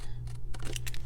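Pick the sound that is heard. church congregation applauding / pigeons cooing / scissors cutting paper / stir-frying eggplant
scissors cutting paper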